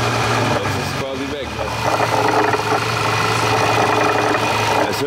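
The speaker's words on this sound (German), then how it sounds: "auf einmal ist hier irgendwie ein Brummbär im Motor" A Bentley engine with a fault near the intake and throttle body idles with a steady low humming drone, close and continuous, while someone talks over it.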